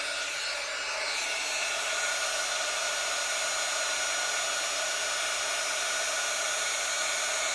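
A heat tool blows hot air over embossing powder in a card-crafting setup, a steady loud whooshing fan drone that holds constant without pause, close and alone.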